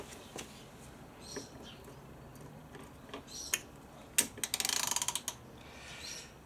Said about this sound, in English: hopefully this bolt comes out and undoes without me stripping that bolt like I bloody did with that other one.